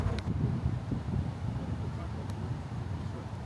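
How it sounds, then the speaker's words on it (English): Wind buffets the microphone outdoors at Typhoon Lagoon, a Disney water park, making a low, gusty rumble throughout with faint background noise. "It's a bit windy out here."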